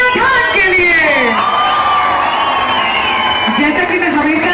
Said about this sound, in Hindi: जोरदार तालियां सुंदर सिंह प्रधान के लिए।